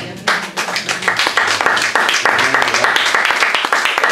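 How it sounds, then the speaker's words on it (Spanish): Worshippers in a church clap for the Lord, a close, busy patter of individual handclaps that quickly swells into dense applause, with voices mixed in. "¿puede dar un aplauso al Señor?"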